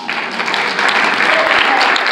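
An audience at a community listening party in the Bronx claps for a local resident, a short burst of loud, close applause lasting about two seconds.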